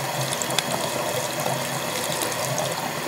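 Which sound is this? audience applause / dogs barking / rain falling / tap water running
tap water running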